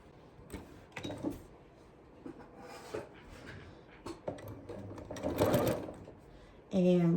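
Sewing machine stitching along a fabric edge on a scrap-busting craft project, its rapid mechanical whirring rising in bursts and strongest near the end, mixed with rustling fabric and handling noises while a person talks.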